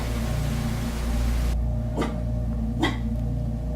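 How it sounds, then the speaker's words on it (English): Two short dog barks ring out over a steady low hum, spaced about a second apart, fairly close. "What are you barking at, Zoe?"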